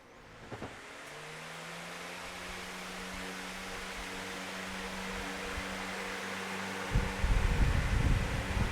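A VEVOR 16-inch oscillating industrial pedestal fan runs on speed 1, giving a steady, close airy whoosh with a low motor hum, alone without talk, rising slightly and ending with a brief bump.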